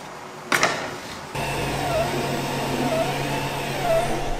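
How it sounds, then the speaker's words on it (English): A 3D printer printing a leg for a plywood organizer project, a steady mechanical motor hum with faint whining stepper tones recurring, preceded by a brief sharp clatter; no voices. "I'm printing the first leg for this project."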